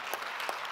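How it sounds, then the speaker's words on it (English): Brief scattered hand claps, a short burst of light applause. "So, an applause to her"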